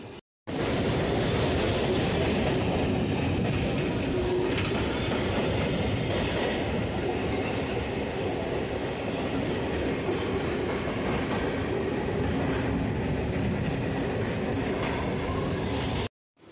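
A Kolkata local train on the Majerhat to Barasat line rolls along the rails, filling the clip with a loud, constant rumble and rattling wheel noise heard from onboard, cutting off abruptly at the end.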